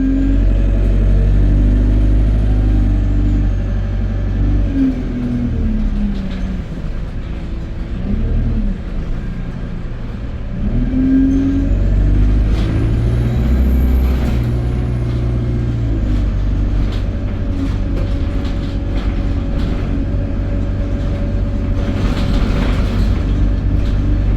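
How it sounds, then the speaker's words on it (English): On board an ADL Enviro200 single-deck bus, fleet number 496, running between Lichfield and Stafford: a loud, steady engine drone fills the cabin, with surging revs, rumbling road noise and air-brake hisses throughout. "Today I'll be taking you on a bus passenger POV ride on board ADL Enviro200 number 496 between Lichfield and Stafford"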